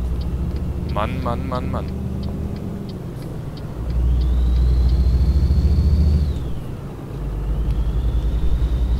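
Scania truck engine in a driving simulator game, a low droning rumble that swells as it accelerates and shifts, with a rising whine, while someone speaks over it.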